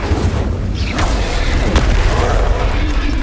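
Loud booming whoosh of an Incendio fire spell in Hogwarts Legacy, a deep rumbling blast with crackling bursts layered on top, sustained over a few seconds amid battle noise.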